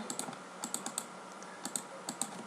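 Quick keystrokes on a computer keyboard, clicking in short irregular bursts at close range, faint and alone with no voices.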